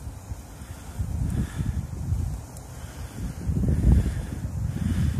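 Strong wind buffeting outdoors beside an open wood fire cooking ramen noodles, a steady low rumble that swells and eases in gusts, with no talking.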